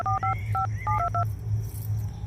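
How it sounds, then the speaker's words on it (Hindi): Tones from a phone keypad as a number is dialed, about eight short beeps in a quick uneven sequence over low background hum. "कॉल लगा के देखती हूँ"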